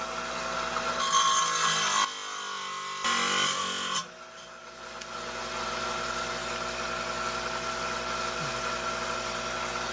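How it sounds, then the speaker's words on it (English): A 5-inch trim saw cuts leopard skin jasper with a steady, close grinding whine. Sharper rasping bursts of the blade biting the stone come early, then it settles into an even drone. "down here on our 5-inch high-tech trim saw, got to plug it in because the switch went out"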